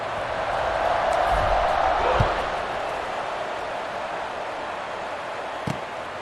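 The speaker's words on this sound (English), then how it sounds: "this crowd is buzzing after that last score." A stadium crowd in the College Football 26 video game buzzes and roars, swelling briefly then settling into a steady broad murmur, with a couple of faint thumps underneath.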